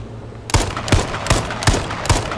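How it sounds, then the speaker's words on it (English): Repeated gunshots in a first-person battle royale video game, five evenly spaced loud shots about every 0.4 seconds over a steady background, with no talking. "Definitely feel like shooting this gun in first person is far better."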